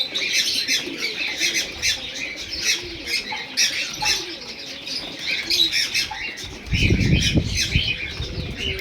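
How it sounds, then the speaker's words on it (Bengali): Madras pigeons coo and chirp while feeding in Kolkata, a busy flock close by with soft murmuring calls and occasional wing flutters, and a louder rustling burst near the end. "সব ম্যাড্রাস পায়রাই আছে।"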